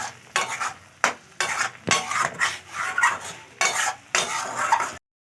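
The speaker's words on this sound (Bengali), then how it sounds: "এবারে একটা পাত্রে আমি ঢেলে নিচ্ছি" A cooked watermelon mixture is scraped and poured from a pan into a container, with rhythmic scraping and clinking strokes of a utensil against the pan, loud and close, ending abruptly.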